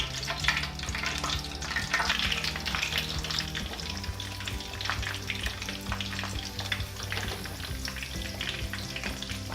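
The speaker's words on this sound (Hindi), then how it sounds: "अब ऑयल भी गर्म हो गया है और मैं कुछ आलू के पीसेस लेकर इसमें डाल देती हूँ" Battered potato pieces fry in hot oil for pakoras, a busy close crackling sizzle full of rapid pops and spatters, steady throughout with no talk.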